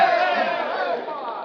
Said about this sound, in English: the Indians broke into a cheer.